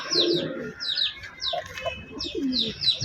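Old-breed black pigeons, a pair, give repeated soft coos and chirping calls close by, in short bursts that recur through the moment with a faint rustle underneath.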